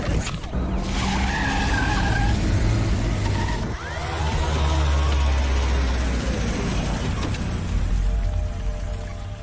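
A car skids loudly on a road as it swings around in a Hindi-dubbed action film, tire noise sweeping through a dense, sustained roar with a brief dip midway before the noise swells again.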